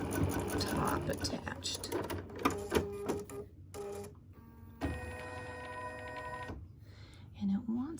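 A home embroidery machine stitches an in-the-hoop project in rapid mechanical bursts, with high whirring runs and brief stops, close by, while someone talks over it.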